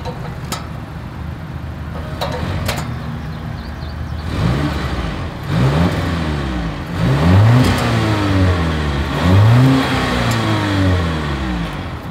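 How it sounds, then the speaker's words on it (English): Exhaust note of a 2022 Volvo S90 luxury sedan, idling and then revved several times in rising, falling sweeps, loud and close with no talking. "As always, here is that exhaust clip."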